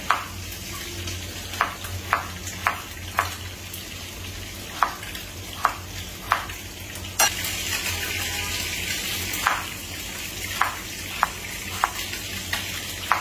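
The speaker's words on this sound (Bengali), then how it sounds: "আলুগুলোকে একটু ফ্রাই করে নিব আমরা।" Potatoes frying in oil in a pan, a constant close sizzle broken by a series of regular sharp clicks or taps as pieces are handled and moved.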